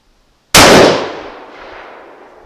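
A single sharp Steyr SSG 69 rifle shot cracks out loud and close, then a long reverberant tail slowly fades behind it.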